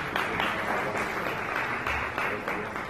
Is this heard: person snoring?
no